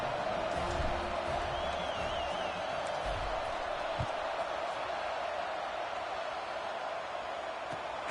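A steady, broadband crowd roar fills a stadium in the College Football 26 video game, continuous and fairly loud, with faint whistles and announcer-like voices mixed in underneath.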